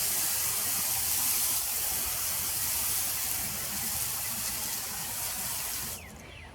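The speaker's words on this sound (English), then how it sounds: "And then we're going to just rinse it down." Water sprays steadily over an etched glass door in a constant hissing rush that eases slightly, then cuts off near the end.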